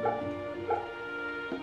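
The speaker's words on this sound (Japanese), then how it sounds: "犬か。" Dog in the game Fate/Samurai Remnant gives a few short barks and soft whimpers, close and clear over quiet ambient game music, with no talking.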